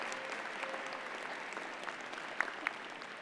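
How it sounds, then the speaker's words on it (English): An audience at a university convocation ceremony applauds a graduate's perfect GPA, steady distant clapping from a large hall, fairly soft and even, with a couple of sharper claps near the end. "I think that deserves a clap."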